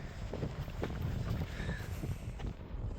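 Wind gusts across a microphone beside the water on the Swedish coast, a steady rumbling buffet with soft splashing underneath, close and fairly faint, with no speech.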